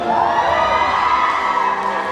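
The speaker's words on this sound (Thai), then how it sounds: "ถ้าชอบขอเสียงกรี๊ดอีกสักครั้งหนึ่งครับผม" Fans at an awards show scream and cheer loudly as a dense, sustained crowd roar of high-pitched shrieks and whoops, close and continuous throughout.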